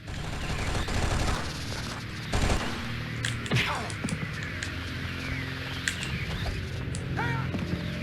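Gunfire in the video game ONI crackles in dense, overlapping bursts over a busy, continuous game soundscape with scattered sharper shots.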